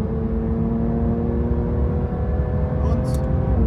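A Porsche 911 992 GT3 RS race car's engine pulls hard as the throttle opens, a loud, continuous rising roar heard from inside with a voice talking over it.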